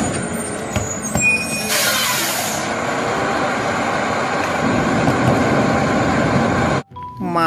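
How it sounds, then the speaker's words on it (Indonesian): A toy garbage truck gives off a loud, steady air-brake hiss and broadband rumble for about seven seconds, with a brighter hissing burst early on, before cutting out abruptly near the end. "Mobil truk sampah, teman-teman."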